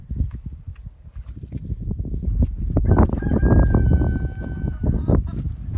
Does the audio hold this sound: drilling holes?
no